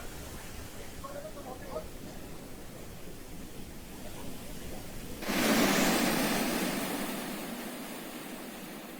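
Fast-flowing flood water surging after heavy overnight rain in Uttarakhand, strong enough to sweep away a cow; a steady broadband rush rises abruptly midway and stays loud and close, with no speech.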